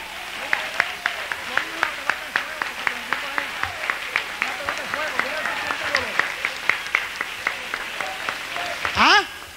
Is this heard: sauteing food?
no